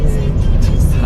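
A car being driven gives a brief, loud, steady low engine rumble heard from close by, with no other clear sounds.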